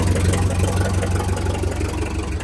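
A Case 430 tractor engine with no muffler idles steadily and close up, giving a loud, even, low rumbling drone throughout.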